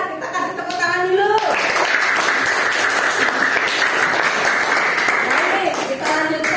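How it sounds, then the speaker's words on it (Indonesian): A primary-school class in Indonesia applauds a group after a poetry presentation: a teacher's voice is heard briefly, then loud, dense clapping from many children rises and holds steady before fading as talk resumes. "Ya, kita kasih tepuk tangan dulu."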